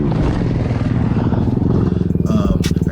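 A dirt bike engine runs close by at a motocross track, a loud steady rumble with fast pulsing firing strokes and a rising rev near the end, heard alone with no talk.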